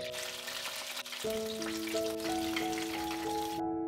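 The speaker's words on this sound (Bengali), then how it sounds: "কিছুক্ষণ এইভাবে ভেজে নেওয়ার ফলে চিকেনের মধ্যে খুব সুন্দর কালার চলে আসবে" Chicken fries in oil over a gas flame with a constant, loud, close sizzle. Sustained tones rise in steps underneath, and the sizzle cuts off abruptly just before the end.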